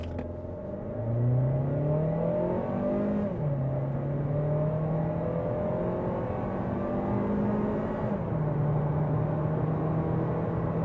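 A 2018 Mazda 3 sedan with a naturally aspirated 1.5 Skyactiv-G engine pulls hard from standstill to 100 km/h in sport mode, its engine note climbing steadily through each gear with brief dips at shifts, loud and steady from inside.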